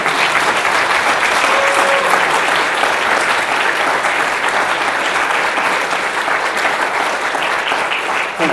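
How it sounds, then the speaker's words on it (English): Sustained applause from an audience after a valedictory talk by a UN-Habitat executive director, dense and steady clapping filling the room for several seconds at a strong, even level. "I think she deserves another round of applause."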